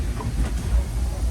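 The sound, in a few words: Disneyland Railroad train starting to move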